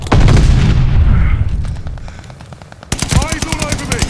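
A grenade goes off in Call of Duty: Vanguard as a loud, close boom with a long rumbling tail, and then rapid machine-gun fire follows in a fast run of bursts.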